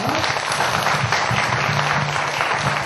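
Steady audience applause fills a Korean book-concert talk event, dense and continuous at close range for the whole stretch.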